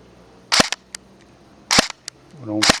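An airsoft gun fires short full-auto bursts with the hop-up set too strong. Three rapid crackling bursts come close and loud, with a voice speaking briefly near the end.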